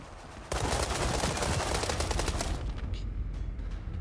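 Loud automatic gunfire in the shooter World War 3 starts abruptly, with a dense rattling stream of close shots for about two seconds before thinning into scattered distant pops.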